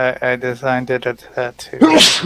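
A single sharp sneeze bursts out at the end, loud and close, right after a stretch of conversational speech.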